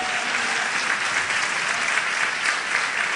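Loud, full applause from a church congregation during a fasting service, a thick, uniform clatter of many hands close by, sustained without pause and free of voices.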